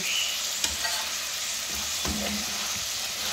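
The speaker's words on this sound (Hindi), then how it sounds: "तो ये बारीक मैंने चॉप कर दिया और इसको मैं सोते करूँगी।" Finely chopped onion sautés in a pan for an omelette, giving a continuous close sizzle with a few sharp clicks of stirring and utensil taps.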